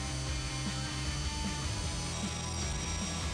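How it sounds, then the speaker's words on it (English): A power drill fitted with a 1/4 inch bit runs steadily while boring a pilot hole during a Jeep Wrangler JK fender flare install. The motor whine is constant and close, with no talking. "we can drill our pilot hole through to the other side."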